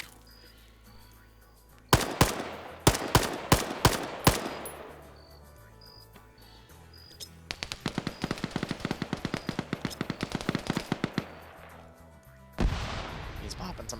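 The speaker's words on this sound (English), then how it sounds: "He's popping some frags over." Frag grenades going off in a multiplayer video game match, sharp bursts in a quick cluster followed by rapid machine-gun fire and a later blast, under commentators' talk.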